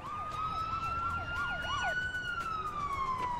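Ambulance siren in Emergency 4, a fast warbling yelp that shifts into a long rising-and-falling wail, loud and close over low engine rumble.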